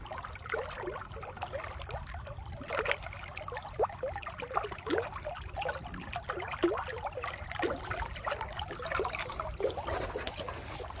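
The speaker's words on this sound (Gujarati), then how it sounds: "કેનાલનું પાણી ચાલુ, કેનાલનું પાણી આવે" Canal water flows and trickles steadily near a farm field, a soft continuous gurgling with small irregular splashes, fairly quiet and alone without voices.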